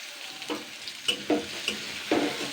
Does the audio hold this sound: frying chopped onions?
yes